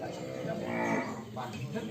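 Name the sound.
Ongole crossbred (PO) cattle mooing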